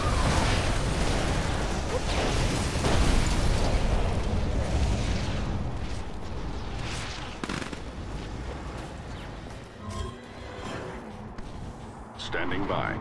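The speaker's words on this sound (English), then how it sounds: "Prepare bombing run" Explosions from a bombing run in the real-time strategy game Command & Conquer 3: Tiberium Wars boom loudly at first, then fade into scattered blasts and crackling bursts, with game voices speaking over them.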